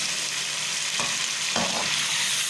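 Boiled chana dal roasts in a pan with a constant hiss and sizzle, and a couple of short scraping stirs break through. It sounds close and steady, with no voices.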